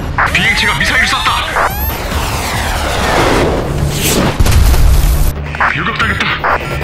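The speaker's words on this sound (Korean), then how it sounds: "비행체가 미사일을 쐈다." An aircraft fires a missile and it explodes, a whooshing launch and rising rush followed by a heavy booming blast, with sound effects and a voice around it.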